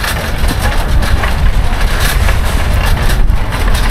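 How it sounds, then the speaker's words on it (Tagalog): Strong wind buffeting outdoors in a Bellingham, Washington shopping area, a loud, continuous rumbling roar across the microphone with gusty swells and no clear gaps. "Medyo mahangin, no?"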